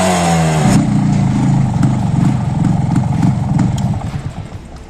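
A Yamaha RX135 5-speed motorcycle engine revs loudly up close, a sharp rising blip settling into a steady, pulsing two-stroke idle-like chatter that fades slightly at the end.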